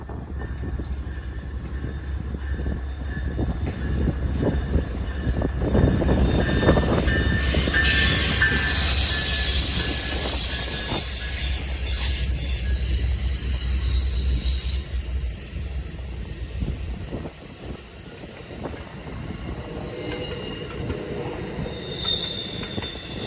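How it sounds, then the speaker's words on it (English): Amtrak 41, the Floridian, a passenger train running from Chicago to DC and south to Florida, rumbles past loudly with a sustained roar, squealing wheels and a rising high screech midway, then fades. "Almost 2 hours behind schedule is Amtrak 41, the Floridian"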